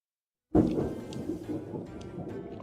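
Thunder from a lightning strike in a game during rain, bursting suddenly out of silence into a loud deep rumble that slowly fades and rolls on, with no talk.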